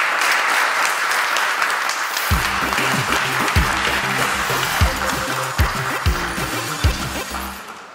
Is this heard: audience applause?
yes